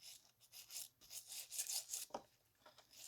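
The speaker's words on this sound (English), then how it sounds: "we'll go ahead and take the brush with some cleaner and just get all the old CV axle grease and gunk off of it" Brush with cleaner scrubbing thick old grease off a CV axle on a 1972 Volkswagen Type 2 bus, quiet rhythmic bristly rubbing strokes in short bursts, close up with no talk.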